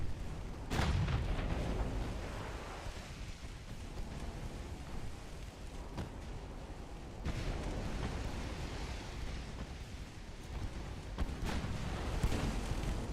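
Ship guns firing on a target in a naval strategy game: a sustained, rumbling roar with several deep booming shots spread across it, fairly loud, no voices.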